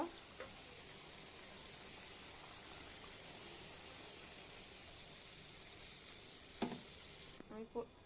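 Curry frying in a pan sizzles softly and steadily as water is poured in, a faint continuous hiss with a few brief clatters of a utensil near the end.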